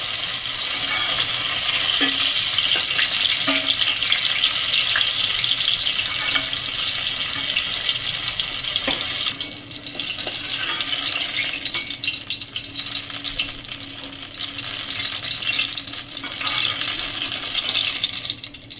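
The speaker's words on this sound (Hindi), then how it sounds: "चारों तरफ से बैगन हमारा अच्छे तरीके से फ्राई हो गया है।" Eggplant pieces fry in hot oil in a home kitchen, giving a steady, close sizzle and crackle that runs unbroken throughout, with occasional small clinks.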